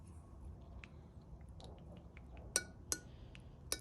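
Stirring blue soft plastic fishing-lure mix with blue flake: faint scraping under a low hum, then three sharp clinks of a stirrer against the container, close by.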